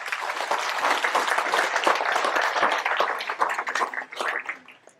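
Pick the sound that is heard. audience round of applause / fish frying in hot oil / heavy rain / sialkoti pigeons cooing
audience round of applause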